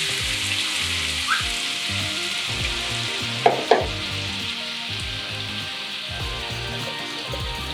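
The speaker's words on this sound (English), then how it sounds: "Now that my butter is getting a nice nutty golden brown, we're going to add in our apples." Apples frying in nutty golden-brown butter for hand-held apple pies give off a steady, close sizzle with soft bubbling throughout, broken by two brief clatters midway.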